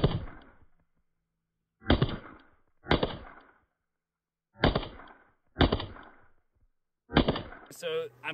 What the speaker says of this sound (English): we're just gonna do some double taps and a couple of extra rapid fire shots